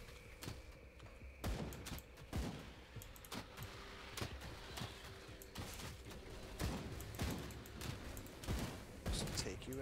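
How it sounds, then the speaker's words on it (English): Poison explosion attacks in the action role-playing game Grim Dawn burst repeatedly as sharp, percussive booms in a rapid, irregular barrage, with combat noise throughout and a voice talking underneath. "I like this poison explosion volcano splooge thing."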